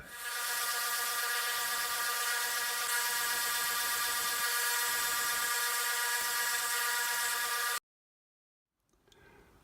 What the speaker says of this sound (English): I'll need to use my rigid spindle sander to square them up.